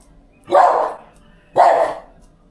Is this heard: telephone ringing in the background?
no